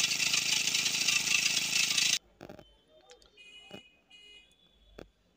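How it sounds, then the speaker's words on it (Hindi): A kerosene engine converted to run on petrol runs steadily with a loud, dense, close roar for about two seconds, then cuts off abruptly, leaving faint scattered clicks and rattles. "अभी देखिए इंजन बराबर चल रहा है"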